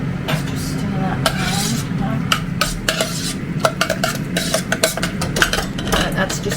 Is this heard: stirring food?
yes